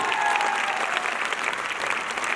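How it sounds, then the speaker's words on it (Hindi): An anniversary seminar audience bursts into dense, sustained applause, a loud, even wash of many hands clapping together without a break. "उसके लिए जबरदस्त ताली।"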